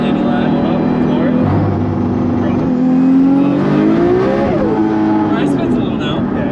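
A single-turbo BMW 335i accelerates hard in third gear around 62 mph, its engine note climbing steadily and loud from inside the cabin, with brief speech over the drone.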